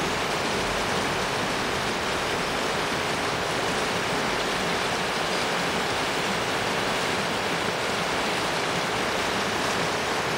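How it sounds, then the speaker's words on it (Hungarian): A small stream flows through the town of Weiz, a steady, unbroken rush of water heard alone at moderate level, with no voices. "És a Weiss település folyócskája, patakocskája folydogál itt békés nyugalommal."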